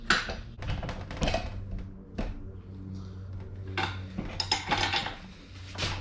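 Sharp metallic clanks and clicks as a wrench cracks loose a 17 mm fitting on a Mazdaspeed high-pressure fuel pump held in a makeshift vise, several irregular knocks and rattles close by, with no talking.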